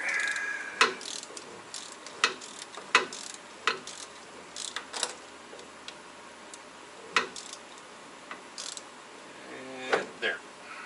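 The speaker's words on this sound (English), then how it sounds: "So we'll just spin the S-cam all the way around." Brake S-cam on a Kenworth T680 truck being spun around by hand, a series of sharp metallic clicks and ratcheting ticks at irregular intervals, close and fairly faint, with quiet gaps between.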